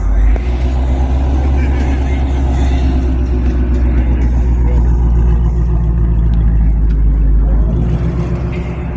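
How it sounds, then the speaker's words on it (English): A Nissan GT-R's engine runs at a car meet, a loud, close, low rumble that continues steadily for the whole stretch. People can be heard talking over it. "They're revving."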